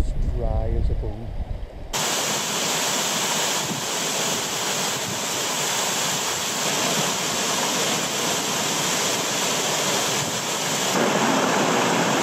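A strong easterly wind buffets the microphone on a cold, icy mountain walk in the Sperrin Mountains, a loud continuous roar and rumble lasting over ten seconds after a brief quieter opening.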